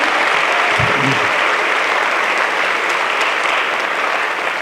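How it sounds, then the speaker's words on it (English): A large audience applauds loudly and steadily after a motivational speech at a public event with sponsors, volunteers and mayors being thanked; dense, even clapping fills the whole stretch without pause. "Let's give them a round of applause for making this possible."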